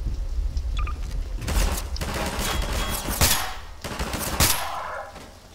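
Silenced M9K weapon fired in Garry's Mod, a run of rapid muffled shots in bursts with sharp thumping reports, loud and close, no talk.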